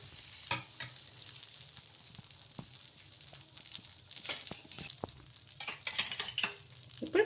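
Coconut curd dosa batter sizzling on a hot pan, a soft continuous frying hiss with occasional scrapes and utensil taps, fairly quiet and close.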